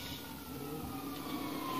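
Police siren in GTA 5 Online: a faint, wailing siren under steady game background noise, a short continuous stretch at low volume.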